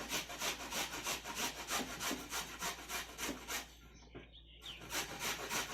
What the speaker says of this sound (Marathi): तर दोन्ही कैऱ्या मी अशा प्रकारे किसून घेणार आहे।